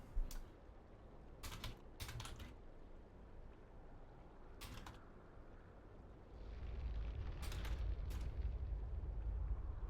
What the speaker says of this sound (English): So let's finish off typing this.